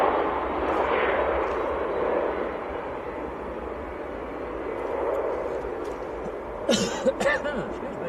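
A person coughs a couple of times in sharp, close bursts near the end, over the low, steady rumble of jet engines at Manchester Airport in freezing winter weather.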